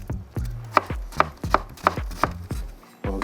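A knife chops an onion on a cutting board in five or six crisp, evenly spaced strokes, close and clear, with no talking.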